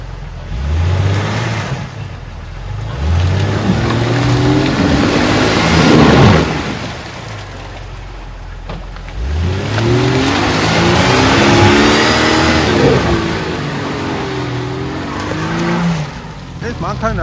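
A car engine revs hard and accelerates in repeated surges, rising and falling in pitch over several passes with a brief tire squeal, while people talk nearby between the bursts.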